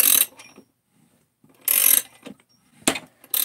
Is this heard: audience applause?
no